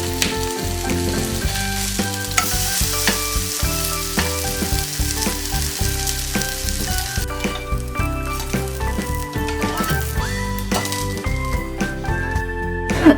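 An oats and vegetable chilla cooks in a pan with a little oil after being flipped, giving a continuous sizzle that sits under prominent background music, with no talking.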